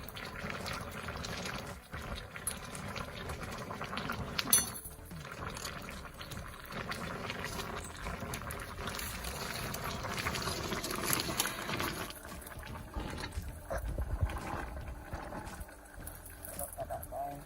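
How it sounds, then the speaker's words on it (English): Soup with cherry tomatoes bubbles in a pot as a soft, continuous simmering hiss, with people talking over it throughout. "That's bubbling really nice."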